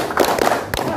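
Rhythmic group hand clapping in a tepuk pe game, a short cluster of close claps with a muffled voice mixed in and a final single clap.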